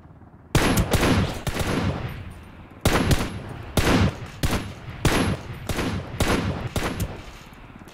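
Video game firefight with a VKS rifle and .50 caliber bullets: loud, dense bursts of automatic gunfire and heavy shots crack repeatedly through the whole stretch, close and booming, with no talk.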